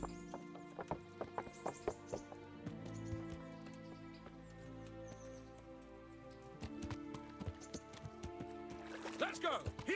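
A horse walks along in Kingdom Come: Deliverance, its hooves clopping in a regular, moderately loud rhythm over background music, with a voice briefly heard and a short burst of clattering near the end.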